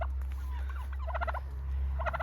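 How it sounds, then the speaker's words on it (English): Henny Mae, a female turkey among backyard chickens, gobbles in short rapid bursts of warbling calls, close by over a steady low outdoor rumble. "Henny Mae's coming through. She's our female turkey."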